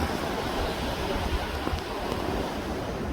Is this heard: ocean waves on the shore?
yes